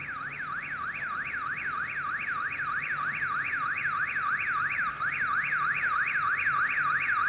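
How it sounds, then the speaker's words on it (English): A car alarm in a horror video game wails with a rapid, rising-and-falling electronic whoop, cycling steadily and loudly with no talking. "Never mind. That was the alarm."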